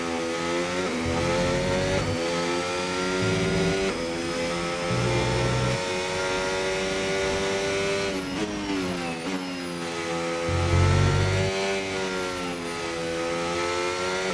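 A Williams FW47 Formula 1 car on an out lap in F1 25 gives a loud, close engine whine that rises and falls through gear shifts and braking, with harmonic pitch sweeps and steady acceleration.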